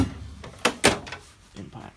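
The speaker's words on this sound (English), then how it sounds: "Oh, this drawer's stuck." Two sharp knocks in quick succession as a stuck drawer in a Snap-On style toolbox is yanked open, close by, followed by softer rattles.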